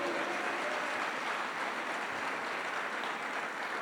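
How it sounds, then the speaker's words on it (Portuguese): Congregation clapping during a Brazilian church service, a steady, even roar of many hands that holds at moderate loudness throughout without pauses or talk. "Aplauda Ele por isso."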